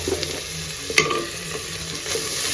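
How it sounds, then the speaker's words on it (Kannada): Asafoetida tempering frying with tomato in hot oil in a pan, a continuous sizzle broken by a sharp clink of a spoon and light stirring, no voices. "ಈ ಒಗ್ಗರಣೆಗೆ ಒಂಚೂರು ಹಿಂಗು ಸೇರಿಸ್ಕೊಳ್ತಾ ಇದ್ದೀನಿ."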